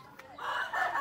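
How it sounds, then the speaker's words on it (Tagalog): A chicken in a backyard gives a brief rising call, close and fairly faint, over quiet surroundings. "Mga chicken, mga pabo."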